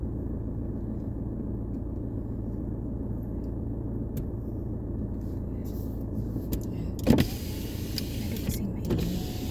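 Car power window motor whirring in steady operation inside a vehicle, a continuous mechanical hum under a low road rumble, ending with a brief louder thud near the end.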